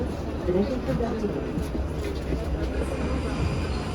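An old train in Prague rumbles steadily with a low, continuous drone and faint rattling, heard from inside, with no voices over it.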